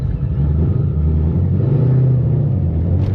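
A Dodge Scat Pack rolls past outside a tire shop, its deep engine rumble steady and fairly close, swelling slightly mid-pass before easing off.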